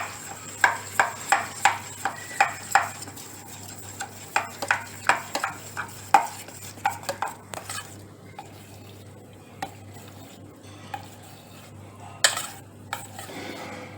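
A spoon stirs spice masala into soaked semolina batter for masala appe, scraping and clinking against the bowl in a steady rhythm of close, sharp strokes that slow and thin out toward the end, with no voices.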